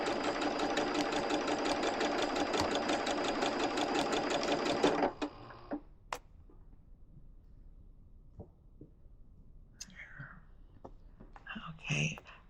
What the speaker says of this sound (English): we're ready to get sewing